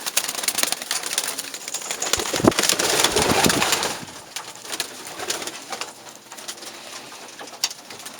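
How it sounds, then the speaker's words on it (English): A pigeon coos softly amid busy loft ambience, with bursts of wing flapping and rustling close by and a steady low background hum. "Gorgeous pigeon."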